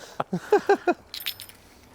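A bunch of three car keys for a Toyota Celica GT4 jangles in a handful of quick metallic shakes, close by, followed by a few lighter clinks.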